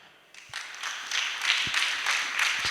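Applause rises in a church congregation during a sermon, a soft swelling patter of many hands clapping that grows steadily louder over a few seconds, with no clear talk.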